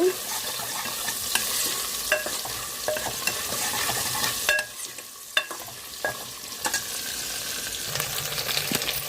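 Onions sizzle steadily in a pan for radish sambar, a constant bright frying hiss broken by repeated sharp scrapes and taps of a spoon stirring, with no talking.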